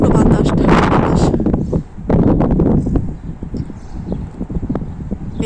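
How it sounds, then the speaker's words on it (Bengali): Strong cold wind on an open rooftop buffets the microphone in heavy, uneven low gusts, loud and close, easing slightly toward the end. "বাইরে প্রচন্ড বাতাস, ঠান্ডা বাতাস"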